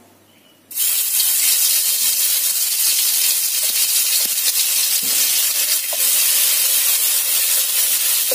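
Ground spice paste hits hot oil over a low flame and bursts into a loud, steady sizzle after a quiet start, crackling continuously with faint stirring scrapes and no talk.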